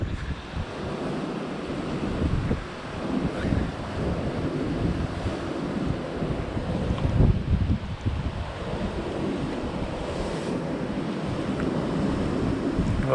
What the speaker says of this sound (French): Il fait pas si chaud que ça là, il y a un petit vent frais.